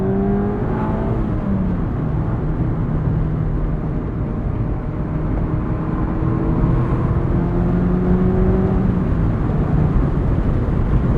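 A 2023 Mazda MX-5 Miata ND2 drives through a backroad corner, its engine humming steadily with a slight rise in pitch as it pulls through the bend, over constant road and wind noise from inside the cabin.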